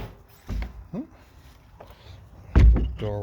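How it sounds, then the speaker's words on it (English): Double door of a garden shed beside a mobile home being worked: a few soft knocks and scrapes, then a louder wooden thunk as it shuts, fairly close. "Door works nice and it's lockable. It's a double door."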